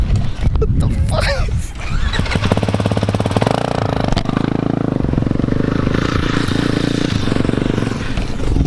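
A pit bike on an indoor track, its rider attempting a wheelie: a loud, close, buzzing engine with a rapid pulsing rattle runs throughout, with voices over it.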